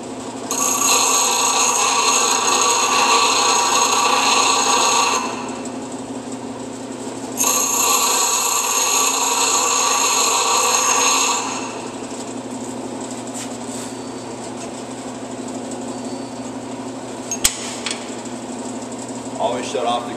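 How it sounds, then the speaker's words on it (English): A bench grinder runs in bursts with a steady high whine, spinning up, stopping, and running again before winding down, leaving a low machine hum beneath. "Always shut off the grinder when you're done before walking away."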